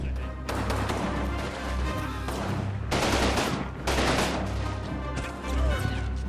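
Continuous loud gunfire from vehicles and infantry in a Combat Mission World War I battle as troops make a bayonet charge, dense overlapping shots and crashing impacts with a low rumble throughout.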